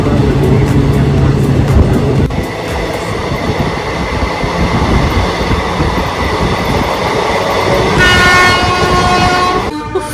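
Lalgola Express train running with a steady loud rumble and rattle of carriages throughout, a horn sounding near the end.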